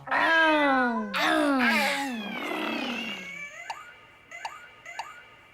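A human voice imitates a cat with drawn-out, wailing meows, followed by a few light ticking clicks in the quiet.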